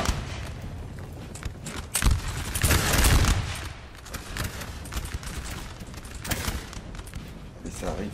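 Musket volleys crackle across a Napoleonic-era battlefield in a strategy video game, with bursts of massed fire and rumbling booms over continuous battle ambience while a commentator talks excitedly.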